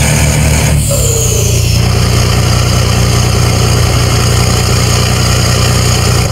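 An Iveco truck with a 570-horsepower engine in Euro Truck Simulator 2 drones loudly and steadily, its heavy low rumble holding constant after a brief shift in tone near the start.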